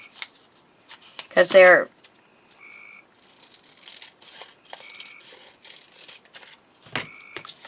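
A paper structure strip for a handmade display box is cut down with scissors in a short burst of snipping, followed by quieter paper handling and brief talk.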